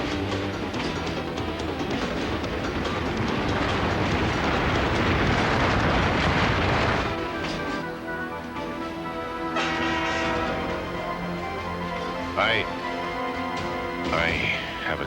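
A train rumbles past loudly for several seconds, then fades into a quieter hum with metallic squeals and tonal whines.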